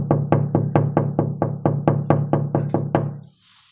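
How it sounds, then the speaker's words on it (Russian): Knocking meant to catch a cat's attention, about a dozen quick, evenly spaced, close, loud knocks in a steady rhythm, then silence. "Не понимает, походу, откуда ему стучат"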